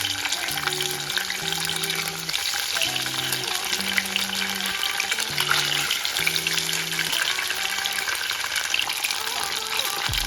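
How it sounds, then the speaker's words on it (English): Steady hissing sizzle of tofu frying in a pan, continuous throughout, with a low tonal hum layered underneath. "So the tofu is frying really well."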